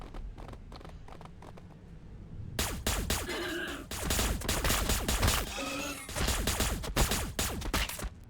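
Heavy volleys of gunfire crackle through a Warhammer 40,000 battle between the Astra Militarum and Tyranids, with dense, overlapping shots arriving in loud waves and only brief gaps between bursts.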